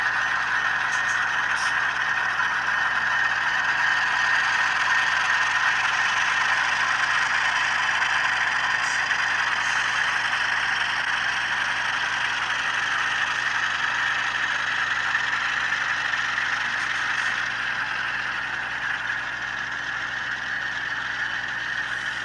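HO scale model diesel locomotives with sound decoders, a lashup of SDL39s, RS3s and SD45s, produce a steady, continuous engine drone with a persistent mid-range hum and faint mechanical whir, nearby and without pauses.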